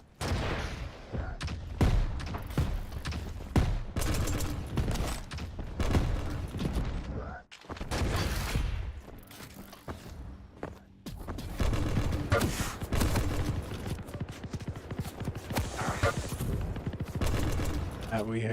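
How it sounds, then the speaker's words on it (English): Heavy machine gun fire in the video game Quake Champions rattles in dense bursts from a distance, mixed with other gunfire and game effects, with a brief lull partway through and a commentator talking over it. "we hear the heavy machine gun from a distance"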